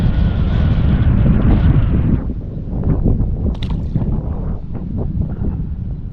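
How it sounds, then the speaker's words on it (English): Strong wind buffeting the microphone while kayaking on a lake during a winter smallmouth bass fishing trip, a loud continuous rush that eases after a couple of seconds into lighter gusts with faint water and paddle knocks. "It's a little windy today."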